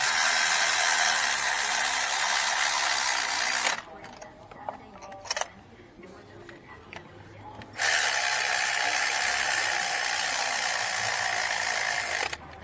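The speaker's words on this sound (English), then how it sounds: "Run them down slowly." A ratchet spins spark plugs down on a 2016 Ford Expedition 3.5 V6, giving a close, steady clicking whir that pauses for a few seconds in the middle, then resumes.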